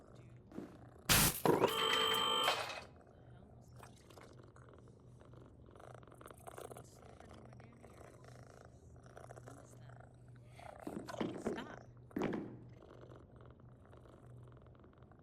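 A cat purring in a PowerWash Simulator 2 theater level, a steady low rumble running under the game sounds, with a loud burst near the start and a person speaking briefly.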